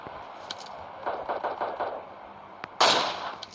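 Gunfire in the mobile shooter PUBG Mobile Lite, with an AWM sniper rifle involved: several quick, muffled bursts of shots across the middle, then one louder, sharp crack near the end.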